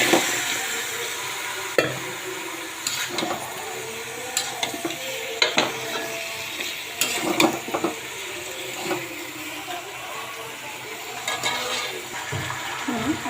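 Chicken and potatoes fry in a pan for a country chicken curry, a steady sizzle broken by repeated scraping stirs of a spatula, close and fairly loud.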